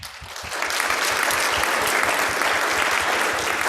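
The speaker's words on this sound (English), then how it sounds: "Let's give them a round of applause." Steady, loud applause from a crowd at a church worship service, continuous clapping that fills the whole stretch without pause.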